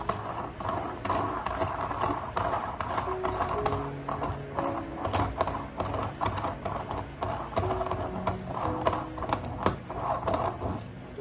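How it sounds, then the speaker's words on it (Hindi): Bolts on an Inconel hydrothermal autoclave are loosened with an Allen key, giving steady metallic ratcheting and clicking with scraping and clanks throughout, close and moderately loud with no talk. "सबसे पहले हमें क्या करना है हाइड्रोथर्मल ओपन कर लेते हैं"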